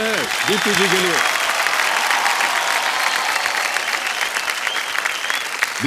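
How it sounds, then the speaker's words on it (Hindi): Sustained applause from a studio audience at an Indian TV quiz show, loud and steady throughout, with a voice briefly heard over the clapping at the start. "ताली बजती रहे दीप्ति जी के लिए।"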